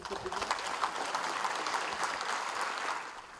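A crowd applauds young engineers whose bamboo toilet prototype won a design challenge in Bhutan: dense, even clapping that holds steady and fairly loud for the whole stretch, with no voices over it.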